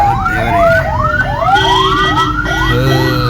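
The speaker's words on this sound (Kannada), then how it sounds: "ಕಡೆ ಆಂಬುಲೆನ್ಸ್ ಅದೇ ಇದೆ" An ambulance siren wails in rising, repeating sweeps through busy evening city traffic, loud and close, with a second siren tone and steady road rumble underneath.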